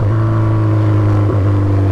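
A loud, close Honda CB1000 motorcycle with a straight exhaust pipe holds a steady rumbling idle, with one brief throttle blip midway.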